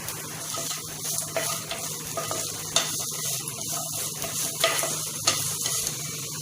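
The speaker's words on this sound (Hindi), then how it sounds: "उसमें थोड़ा सा घी डालना है, हाफ और उसमें कटा प्याज डालना है" Chopped onion frying in a little ghee, a steady close sizzle with hissing crackle and occasional stirring scrapes in the pan, continuous throughout with no voice.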